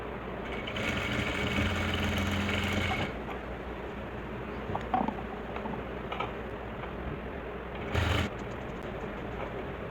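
A sewing machine stitching a salwar around a curve: a steady mechanical whir runs for a few seconds, then softer rattling and handling, with another short burst of stitching near the end.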